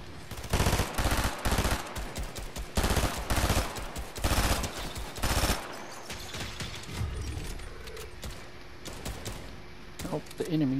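Gunfire from a computer-controlled character in Fortnite Zero Build duos: loud bursts of rapid automatic shots repeating over the first half, then quieter scattered shots and game noise, with people talking over it.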